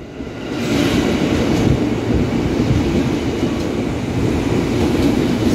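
A KRL electric commuter train bound for Cikarang rolls through Jatinegara station, a loud, close, continuous rumble of wheels and carriages that swells in and holds steady with no talking.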